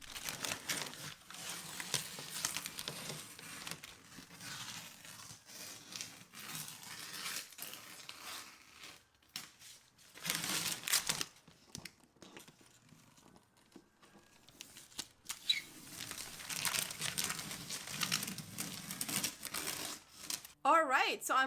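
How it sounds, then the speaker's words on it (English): Painter's tape peeled off walls and crumpled, a close run of crinkling, tearing and rustling that goes on and off with short gaps, with speech faintly present at times. "I'm gonna pull the tapes off and call it a day"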